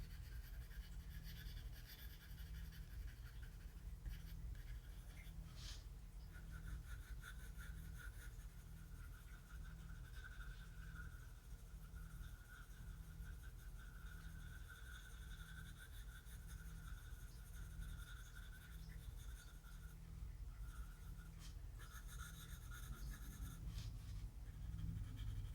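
Colored pencil layered onto paper in a steady, quiet scratching, a soft continuous rasp that runs alone throughout with a few brief louder strokes.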